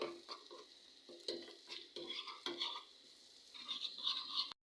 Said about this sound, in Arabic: حطينا الزبده اهي فوق وشويه زيت. هنحط الثوم والكزبره، نعمل طشه